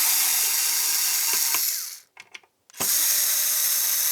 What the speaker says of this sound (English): You can get your very own Amazon Basics electric screwdriver.